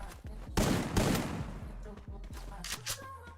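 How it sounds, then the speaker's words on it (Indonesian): Rapid bursts of video game gunfire, a heavy volley up front followed by scattered shots and rattling echoes, with a voice faintly underneath. "sama-sama melepaskan tembakan secara bersamaan"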